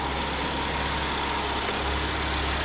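The 2.4 liter Ecotec engine of a 2009 Chevy HHR runs at a steady idle, a constant even hum with low rumble, heard close and alone without talk.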